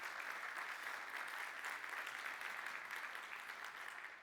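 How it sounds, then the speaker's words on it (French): Conference audience applauding at a building and urban-living event in Nantes, a steady sustained clapping from a crowd heard at a distance, fading slightly at the end. "Si vous voulez bien applaudir Tristan Rion."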